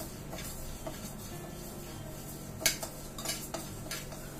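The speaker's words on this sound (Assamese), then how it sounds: "মই মুগ দালিখিনি ভালদৰে ভাজি লম" Mung dal dry-roasted in a kadai: steady light scraping and rattling of lentils against metal, with a few sharper stirring clinks.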